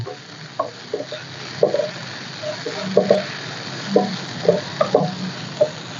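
Pounded garlic and chili paste fries in a pan in a Thai kitchen, a low soft sizzle broken by about a dozen short scrapes and clinks of stirring in an uneven rhythm, no voices.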